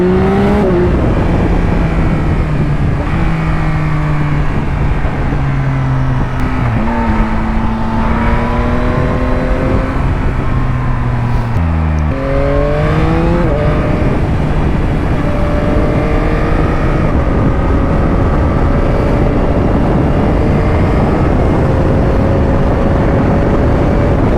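A 2021 Yamaha MT-09 motorcycle on a ride, its engine loud and close as it rises and falls through the gears, steady wind rushing under it and no voice.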